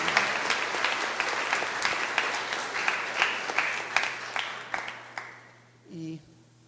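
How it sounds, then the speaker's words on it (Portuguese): A church congregation at a Sunday morning service applauds Pastor Silas with steady, dense clapping that fills the room and fades out near the end, followed by a brief voice. "gostaria que nós saudássemos o pastor Silas com uma salva de palmas"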